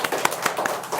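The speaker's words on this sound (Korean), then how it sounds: "우리 박수 한번 쳐줍시다" A church congregation claps briefly, a quick run of sharp, uneven hand claps close by, with no talk over it.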